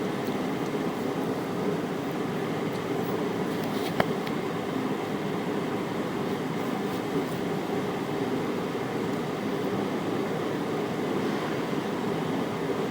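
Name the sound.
toilet flush with paper, handicap restroom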